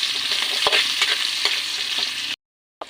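Onion, garlic and ginger sizzle and hiss steadily in a hot pan for fish adobo in coconut milk, with a few soft stirring scrapes, close and loud before cutting off abruptly near the end.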